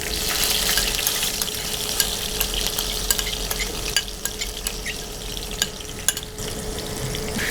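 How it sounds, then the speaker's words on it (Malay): Thinly sliced onion and chopped garlic sautéing in a pan, a dense continuous sizzle with scattered crackles and light stirring clicks, close and steady, no voices. "kita perlu menumis lebih kurang sebiji bawang yang dipotong dihiris nipis dan juga dalam 4 ulas bawang putih yang dicincang"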